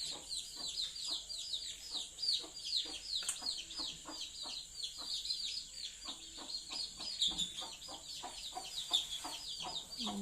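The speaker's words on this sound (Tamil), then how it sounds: "இந்த கோழி குஞ்சுங்க ஆரம்பிச்சிட்டுங்க." A flock of young chicks chirps and clucks steadily, with high, overlapping peeps filling the whole stretch at moderate volume, close by and without talk.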